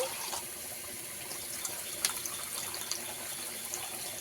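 Water is poured from a bowl onto rice for a hilsa fish pilaf, a steady close gushing and splashing stream that fills the clip without any voices.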